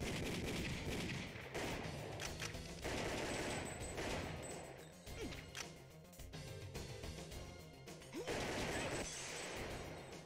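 Arcade light-gun shooter Time Crisis in a full playthrough, with dense, continuous gunfire, crashes and explosions layered over game music, loud and busy throughout with brief dips between volleys.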